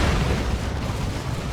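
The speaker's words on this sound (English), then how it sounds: "D cannon here for LimBei." A D-cannon fires in the video game Dawn of War 2, releasing a dense, roaring explosion that fills the whole stretch as one loud, sustained rumble without clear separate blasts.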